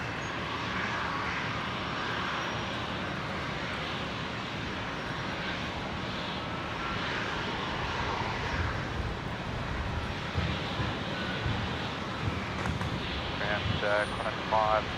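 Airliner departing Brisbane International Airport from runway 01 right, a steady, broad engine roar held at moderate distance throughout, with talk and radio chatter over it.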